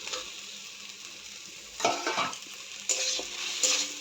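Oranges are stirred into a chutney in a pot, with a low simmering hiss broken by a few short bursts of spoon scraping and clinking against the pot.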